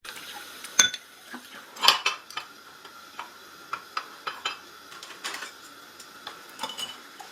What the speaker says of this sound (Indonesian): lalu melanjutkan dengan mencuci piring